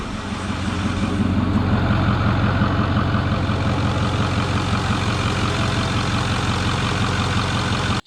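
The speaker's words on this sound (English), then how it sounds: "Truck's running, no more leaks." A Ford truck's 6.4 Powerstroke diesel runs at idle after its turbo was removed and refitted. The close, loud, steady clatter and drone continue without a break.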